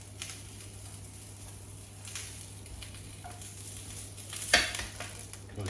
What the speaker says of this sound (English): Just going to brown these off on the outside